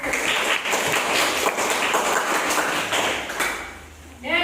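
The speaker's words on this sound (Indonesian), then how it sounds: "Beri tepuk tangan dulu." Audience applause during a teacher training class session, steady dense clapping filling the room for several seconds before tapering, with a voice starting up at the end.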